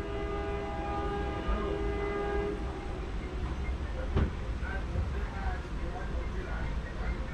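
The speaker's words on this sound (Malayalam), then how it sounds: "ഒരു ഡീസൽ ലോക്കോ ഇതാ പാഞ്ഞു വരുന്നു" A diesel locomotive train approaches at a Konkan Railway level crossing, a steady low rumble building with a brief horn-like burst midway, heard from the trackside while voices talk over it.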